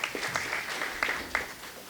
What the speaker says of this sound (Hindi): ताली बजाओ उनके लिए, बजाओ बजाओ।